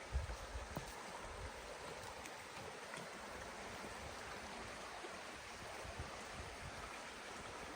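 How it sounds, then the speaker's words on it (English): Drift Creek rushes and burbles steadily in the Drift Creek Wilderness, a faint continuous flowing sound heard alone with no voices. "I can hear the creek."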